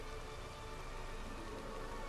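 Steady rain falling in the online western game Red Dead Online, a continuous soft hiss of drops with no voices, even and unbroken throughout.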